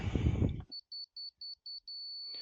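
A brief burst of talk, then seven short, evenly spaced high-pitched beeps from a laser level in a steady rhythm, clear against near silence, while bracing garage footer forms.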